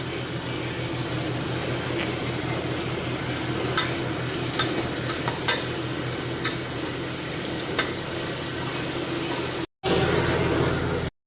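Ground tomato poured into a pan with onions and stirred while cooking for biryani, a loud, steady sizzle and bubbling with scattered clicks of a spoon against the vessel, briefly cut off near the end.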